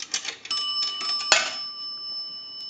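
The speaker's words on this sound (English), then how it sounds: "That's going to ring the bell twice." An Automatic Electric three-slot payphone's bell rings twice as a dime drops through the coin validator into the cash box. Two bright metallic strikes sound close and clear, then the tone fades away.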